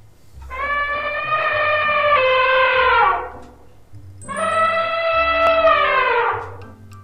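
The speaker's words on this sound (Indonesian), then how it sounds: "gajah" An elephant trumpets twice, each call a long, loud, harmonic blare lasting about three seconds with a short gap between, standing alone with no talking.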